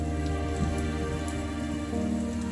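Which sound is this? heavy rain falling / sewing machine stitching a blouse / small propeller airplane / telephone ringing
heavy rain falling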